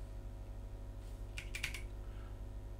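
A few quick clicks of typing on a computer keyboard, faint and close over a steady low hum, with no talk.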